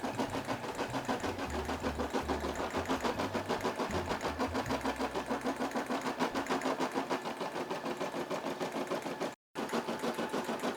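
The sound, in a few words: Brother SE600 embroidery machine stitching with white thread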